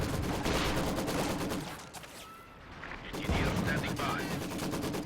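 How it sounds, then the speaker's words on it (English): An infantry support gun fires in a Company of Heroes 2 match amid dense battle noise, with repeated booming shots and rattling gunfire that briefly dip before resuming loudly. "ISG firing away at this Maxim."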